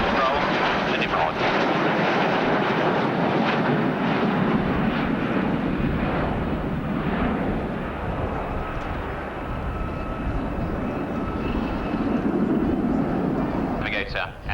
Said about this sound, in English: Here's the aircraft that replaced it in the maritime reconnaissance role, the Nimrod.